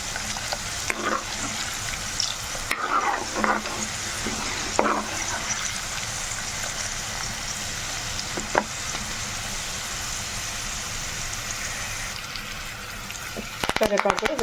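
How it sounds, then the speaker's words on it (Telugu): Lentils and curry leaves fry and crackle in hot oil for a tempering for a ripe red chilli pickle, a constant close sizzle broken by scraping stirs, with a voice talking faintly underneath. "ఇవి చక్కగా వేగనివ్వాలండి."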